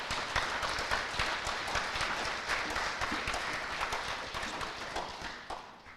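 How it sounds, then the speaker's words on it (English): Audience applause at an FFA banquet for academic achievement recipients, a steady dense wash of many hands clapping in a hall, moderately distant and sustained for several seconds before tapering slightly. "Can we please have a round of applause for our academic achievement recipients?"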